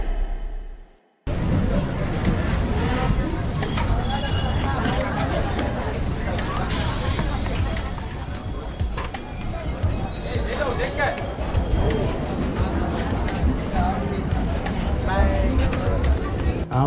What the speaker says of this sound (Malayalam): സബർബൻ ട്രെയിനിലാണ് നമ്മൾ പോകുന്നത്.